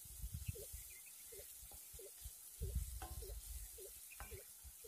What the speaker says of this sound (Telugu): మాడిపోకుండా కలుపుకుంటా ఫ్రై చేసుకోవాలి